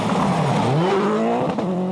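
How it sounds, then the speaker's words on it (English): A Subaru rally car roars past nearby, its engine pitch climbing and then dropping as it goes by, loud and sustained with no talk. "I mean, Subarus always sound good. They might be the best."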